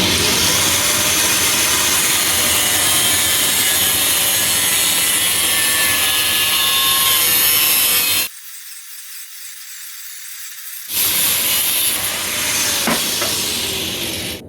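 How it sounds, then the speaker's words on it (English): Angle grinder cutting into a steel axe at a blacksmith shop, a loud, steady high-pitched whine with a brief drop partway through before it resumes. "So I think we could just use our angle grinder and go right across here and probably do pretty good."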